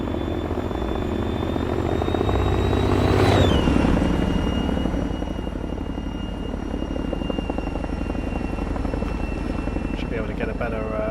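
A Chinook helicopter in Arma 3 flying at night, a loud continuous rotor thump and turbine whine that swells as it passes close, with voices talking over it.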